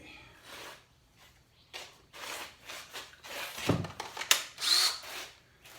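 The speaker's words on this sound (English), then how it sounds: "there goes my drill." A power drill whirs in several short bursts, starting and stopping repeatedly, close and fairly loud, with a few clunks between runs.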